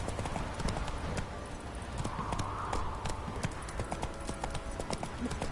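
Roach the horse gallops in a video game, a quick, steady clip-clop of hooves close up, with a faint voice and game sounds beneath.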